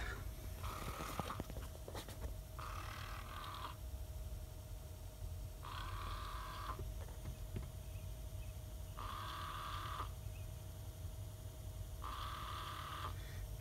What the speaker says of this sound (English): This is an aftermarket actuator, by the way.